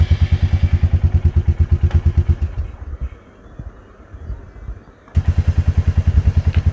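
A Royal Enfield Meteor 350 engine runs near the rear chain with a steady, loud thumping idle beat that drops away for a couple of seconds, with hiss and clatter from the spray in between, then resumes.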